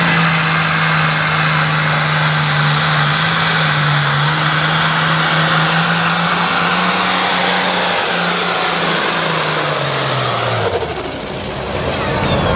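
Turbocharged pulling tractor engine roaring steadily through a pull run at a hot farm class event, a loud sustained drone with a low tone that sinks as the engine winds down near the end.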